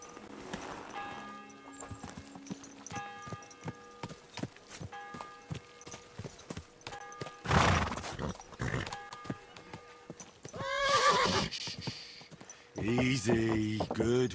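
Hooves clop in a steady, rhythmic walk from a horse in Kingdom Come Deliverance 2, followed by louder bursts that may include a whinny near the end, with brief speech mixed in.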